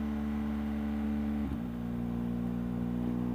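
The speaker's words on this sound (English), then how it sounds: "I can see a car coming up there." A car engine drones steadily on a snowy spring mountain road, its hum shifting in pitch partway through as the vehicle nears, with no talk over it.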